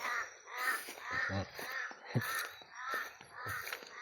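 Several house crows caw repeatedly in loose succession, harsh calls rising and falling at moderate distance, with no talking.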